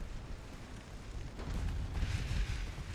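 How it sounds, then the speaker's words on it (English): A torpedo detonation in a naval warfare video game, a muffled low rumbling boom that swells over a couple of seconds amid constant distant battle noise. "There we got a torpedo detonation."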